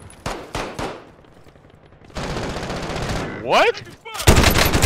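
Video game gunfire in an online team shooter match: several sharp bursts of shots near and loud, broken by a rising whooshing effect, with a brief voice calling out once.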